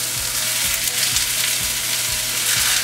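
Cod fish sizzles in a pan on a bed of onions, a steady close frying hiss with a soft, regular ticking beneath it.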